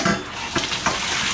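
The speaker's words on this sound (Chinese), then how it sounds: "现在赶紧用凉水给它冲一下" Cold tap water pours steadily over blanched pork liver in a kitchen, a continuous splashing rush at moderate loudness with no voices.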